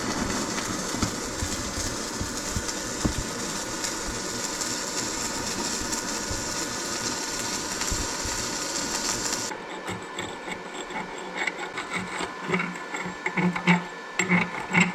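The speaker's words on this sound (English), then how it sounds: "I'm going to try to run a 3/32 7018." Steady crackling hiss of a stick welder running a 3/32 7018 rod on a YesWelder ARC-205ds Pro, close and continuous for most of the clip before giving way to sputtering noise.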